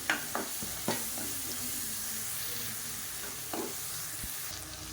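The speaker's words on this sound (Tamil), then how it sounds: "இப்போ இதையும் நல்லா வதக்கிக்கலாம்." Blended tomato and masala sauté in a pan for egg thokku, giving a steady close sizzle with a few scraping stirs of a spoon, and no voices.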